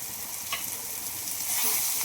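Crumbled fresh paneer sautéing in a pan for paneer bhurji, a steady soft sizzle with a light stirring tap, close and continuous, with no talk.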